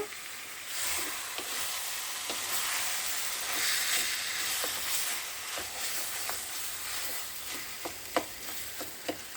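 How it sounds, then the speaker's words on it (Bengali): Olive pickle in a hot pan sizzles and hisses steadily while being stirred, with scattered light scrapes and clicks of the spoon against the pan, close and unaccompanied. "একটু হালকা নেড়ে দিব।"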